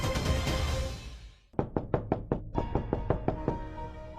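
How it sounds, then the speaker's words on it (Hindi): Hard knocks on a door, about ten rapid raps in two bursts after a brief pause, loud and close, following a few seconds of music with no voices over them. "इस समय कौन नॉक कर रहा?"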